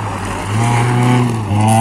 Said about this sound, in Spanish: ahí vemos el coche verde, blanco, azul, a gran velocidad en esta bajadita de tensión